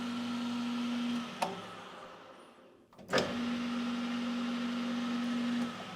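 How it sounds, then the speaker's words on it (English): A Precision Matthews PM-1340GT lathe on 3-phase power runs with a steady, even hum. Midway there is a sharp click, the sound briefly dips, then a clunk and the same hum resumes. "The machine sounds really nice, and with 3-phase power"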